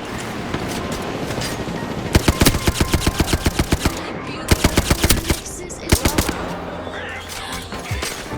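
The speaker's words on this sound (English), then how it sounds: "A lot of missed shots here." Rapid automatic gunfire from Apex Legends rattles out in repeated loud bursts, with short pauses between volleys and a brief lull midway.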